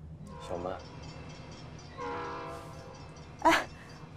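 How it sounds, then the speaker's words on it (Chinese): A train arrives at a station as its horn sounds in a sustained harmonic blast midway, with brief tonal bursts before it and a louder, sharper burst near the end, over a low rumbling background. "火车来了"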